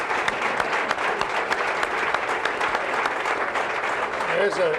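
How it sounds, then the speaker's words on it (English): Steady audience applause fills a sports showcase event in Louisville, dense clapping running throughout, with a voice speaking over it toward the end. "I'm going to applaud that."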